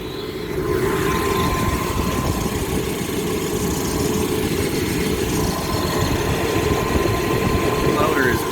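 The blower motor of an Aaon HVAC unit runs steadily with a low, rumbling whir and a faint hum. It stays close and constant throughout, and the wobbling motor adds a slight vibration.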